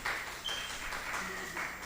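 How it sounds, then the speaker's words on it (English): Audience applause for a conference speaker, a soft, distant wash of clapping sustained for a moment. "give applause,"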